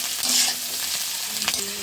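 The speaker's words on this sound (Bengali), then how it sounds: "ডিমটা দিয়ে একটু নাড়াচাড়া করে নেব" Egg sizzling and frying in a pan with green chilli, stirred around with a utensil, loud and close, with soft scraping strokes over the steady crackle.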